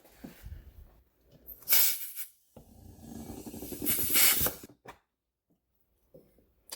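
Air hisses into a tire through the valve stem on a custom Honda ATC 70, in two strong bursts with shorter faint spurts, near and fairly quiet.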